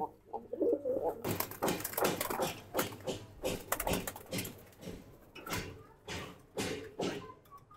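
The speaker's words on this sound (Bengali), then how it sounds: "আমাদের লফটে বেশ কয়েকটা গেস্ট কবুতর আসছে।" Giribaj pigeons coo repeatedly up close in a loft, their low throaty calls mixed with bursts of rustling and flapping.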